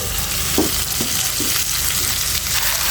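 Washed, chopped malabar spinach frying in a hot pan for a fish-head curry, a steady broadband sizzle with a few soft stirring scrapes, close and continuous.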